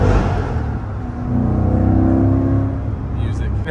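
A C8 Corvette Z51 exhaust blips and revs briefly, rising and falling engine tone close by, with voices talking over and around it.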